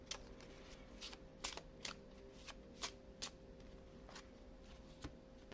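A deck of cards is handled with a series of soft, sharp riffling flicks and snaps spaced irregularly over a quiet background, with no talking.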